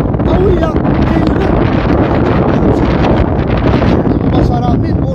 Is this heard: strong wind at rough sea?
yes